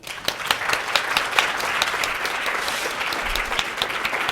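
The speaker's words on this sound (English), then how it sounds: "I just wanted to give a round of applause to the students for putting together an amazing event today." An audience claps steadily at a panel event on the future of animal farming, a dense, even round of applause filling the whole stretch without talk.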